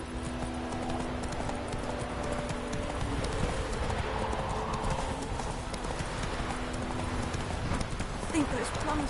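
Roach the horse galloping in The Witcher Wild Hunt, a continuous fast clip-clop of hooves with a brief whinny, while a voice talks over it.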